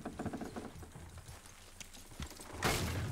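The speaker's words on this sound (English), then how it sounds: "Good horses." Horses in the video game Red Dead Redemption 2, quick hoof clops in a rapid rhythm at first, then thinning into scattered knocks before a burst of louder rushing noise at the end.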